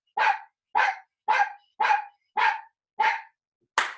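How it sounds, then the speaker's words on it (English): Dogs bark at a home during a workout: seven loud, sharp barks spaced roughly half a second apart, evenly rhythmic and close, with silence between them and no speech. "I can't deal with the dogs barking in here."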